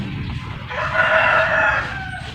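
A neighbour's rooster crows once in a drawn-out, strained call, moderately near, over a steady background of other chickens and ambient noise.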